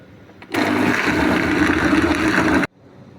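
Blender grinding mangoes with sugar in a jug, a loud continuous whirring roar that starts suddenly and runs for about two seconds before cutting off.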